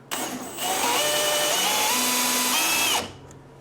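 A power drill turning a drill bit whirs up, holds a steady high-pitched whine for about two and a half seconds with slight pitch shifts, then stops abruptly.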